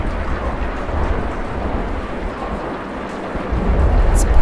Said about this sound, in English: It's pouring out there